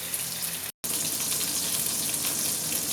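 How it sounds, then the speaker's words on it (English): Chicken breast frying in a pan for a Filipino-style sweet and sour dish, a steady close sizzle with a broad hiss that drops out for an instant near the start, no talking. "Now we're done frying all the chicken breast."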